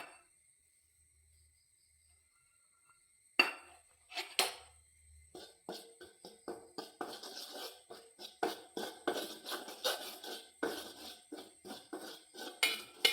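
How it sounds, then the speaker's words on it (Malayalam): Ragi flour dry-roasts in a pan for puttu. After a few quiet seconds, a spoon scrapes and clinks against the metal in quick, repeated stirring strokes, close and fairly crisp. "അതിന് പൊടി ഒന്ന് വറുത്തെടുക്കാം"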